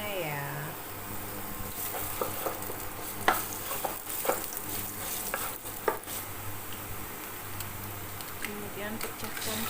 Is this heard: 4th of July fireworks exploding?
no